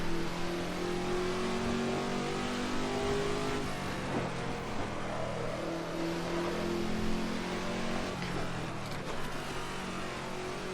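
Car engine revving steadily in the Assetto Corsa racing game, Dream Pack 2 car on a low-grip track, a continuous droning engine note rising and falling through gear changes, moderately loud without talk.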